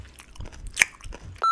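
Close, wet chewing and crunching of a pickled cucumber, with a sharp bite near the middle and soft mouth sounds, followed by a sudden steady tone at the end.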